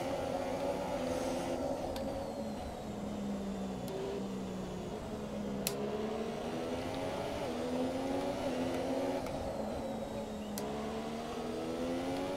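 A Force India Formula 1 car engine at Spa in the F1 2017 video game wails continuously, its pitch rising and falling through upshifts and downshifts, loud and close with no talking.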